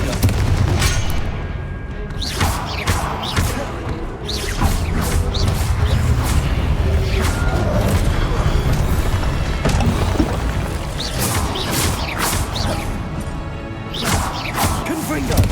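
Repeated Confringo fire-spell blasts in Hogwarts Legacy, booming explosions and crashes layered over a constant loud battle din, with a voice shouting in game combat throughout.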